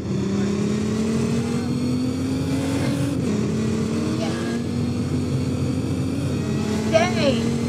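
A car drives fast in Roblox, its engine a steady loud drone with the pitch rising gradually as it speeds on, while people talk over it.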